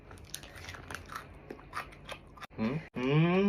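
Crunchy Korean radish is chewed close to the microphone with repeated crisp bites and crunches over the first half, before a person vocalizes loudly near the end.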